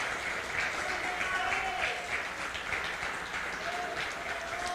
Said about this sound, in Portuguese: E se você puder, aplauda Ele.